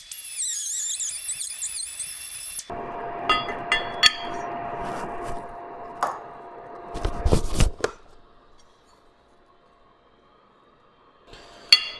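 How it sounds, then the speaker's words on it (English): A hand beveling tool cuts a bevel into a hole in 1/8-inch wall steel tubing: a high whine at first, then several seconds of scraping, chattering metal with sharp clanks, fading to near silence before a final clank. "So we can use this to easily put a nice bevel on there."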